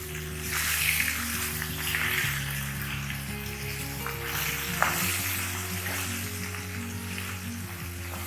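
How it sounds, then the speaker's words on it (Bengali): Rohu fish fries in hot oil with a continuous, even sizzle that stays moderately loud throughout, with no voices. "আমাদের মাছ ভাজা হয়ে গেছে।"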